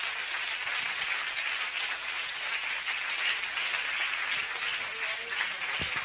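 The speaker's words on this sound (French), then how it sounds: "C'était Liès, merci de l'applaudir s'il vous plaît" An audience claps steadily for a young speaker at a youth inclusion event in Hauts-de-France, a dense continuous patter of applause held at an even level throughout, with a faint voice underneath.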